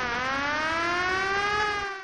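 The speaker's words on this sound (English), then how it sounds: "Sound the alarm!" A steady alarm siren sounds loud and continuous, with a wailing tone that rises slightly and fades at the end.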